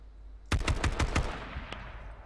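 Gunfire in the video game H1Z1 King of the Kill: a quick burst of about six close, loud shots in rapid rhythm, then a single later shot trailing into quiet.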